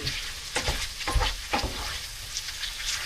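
Currywurst sausages fry in a pan with a close, steady sizzle, broken by several soft thumps and scrapes as they are stirred and turned.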